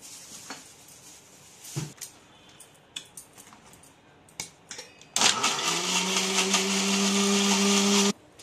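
A mixer grinder grinding almonds with milk and rice, preceded by scattered clicks and knocks of handling. The motor then starts abruptly and runs as a loud, steady whirring whine for about three seconds before cutting off.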